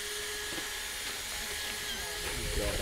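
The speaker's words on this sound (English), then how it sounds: "This is my carving drill bit." A steady, high-pitched carving drill bit whines continuously, grinding with slight shifts in pitch as it bites into a pumpkin.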